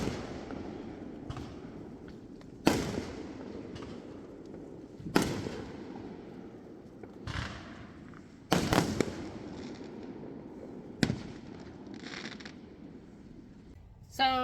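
Fireworks burst in a series of sharp, loud bangs a few seconds apart, with crackles and softer pops between them over a low background rumble, and voices murmur faintly in the background.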